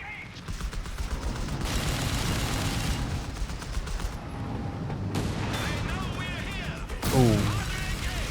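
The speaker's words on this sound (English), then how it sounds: "Here comes the land mattress fire." Landmattress rocket artillery fires in Company of Heroes 3, a dense rolling barrage of launches and explosions with heavy rumbling booms throughout and a sharp burst near the end, under a commentator's voice.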